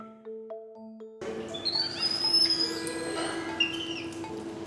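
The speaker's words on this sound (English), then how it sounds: "lets out a bird-like chirp as a friendly gesture" A Ghanaian long-tailed monkey in a zoo enclosure lets out high, bird-like chirps and whistling calls over a busy ambient background, following a brief tonal hum.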